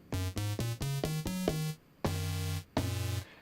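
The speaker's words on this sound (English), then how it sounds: "OTT is like a really hardcore compressor effect" Synth notes run through Ableton's OTT multiband dynamics compressor: a quick rising run of seven short, bright, buzzy tones, then two longer sustained notes, all dense and evenly loud, with no talk.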